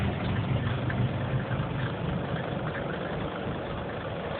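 Two pieces of heavy equipment at a dump idle steadily after a cold morning start, a low, rumbling drone with faint knocking that holds even and close throughout, no talking.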